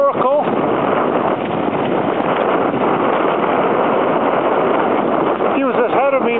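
A sailboat close-hauled in rough, wet conditions, with loud continuous wind buffeting and rushing water filling the whole stretch while someone talks faintly beneath it.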